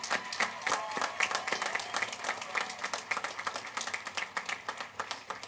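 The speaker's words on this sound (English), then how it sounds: "Let's give them a round of applause." Audience at the W.F. West 2024 graduation ceremony applauds graduating AVID students, a steady wash of many hands clapping at moderate loudness with individual claps standing out, filling the hall without pause.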